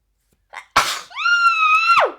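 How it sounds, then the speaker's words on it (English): One sharp sneeze bursts out, followed by a long, high, strained voiced cry that trails off. "every time I sneeze, it feels like I have a child and it's kicking"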